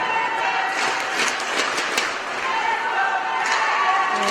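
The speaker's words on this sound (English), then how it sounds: "crowd is a little bit smaller than we're used to in Brossard because of the weather outside, but it's louder than I've ever heard it" Loud, dense crowd noise fills a women's professional hockey playoff game in Brossard between the Thunder and Canadiennes, a steady roar of cheering and clapping held at high level throughout, with an announcer talking over it.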